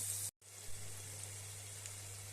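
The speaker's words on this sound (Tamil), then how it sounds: "நல்லா காய்கறி எல்லாம் எண்ணெயிலேயே வதங்கணும்." Vegetables sautéing in oil in a pan with onion, tomato, coriander, curry leaves and mint, giving a steady, even sizzle with a faint low hum beneath and a short break near the start.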